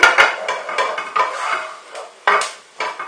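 Onion and garlic stirred in a pan for lasagne, a utensil scraping and clinking against the metal in uneven strokes, close and fairly loud with a light sizzle underneath.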